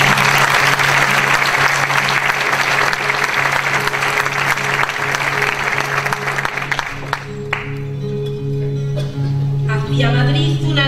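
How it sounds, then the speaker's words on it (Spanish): Audience at a poetry and music festival during the San Nicasio town fiestas in Leganés applauding a local collective, loud sustained clapping that fades after about seven seconds into sparse claps as instruments and voices begin. "Pido un aplauso para el colectivo Miguel de Pino."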